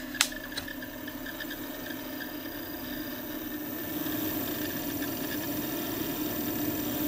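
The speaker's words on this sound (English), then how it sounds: "This is the sound of a dying fan." Dying cooling fan inside a MarsRock GTIL2000 grid-tie inverter with limiter, giving a steady droning whir with a rough, buzzing edge and a couple of faint clicks near the start, no talking.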